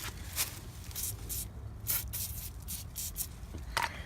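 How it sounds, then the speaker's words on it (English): Penetrating oil is sprayed onto rear brake parts of a 2013 Subaru Forester during a rotor and pad replacement, making short hissing spray bursts, fairly faint over a steady background rumble. "Go ahead and hit it with a little penetrating oil."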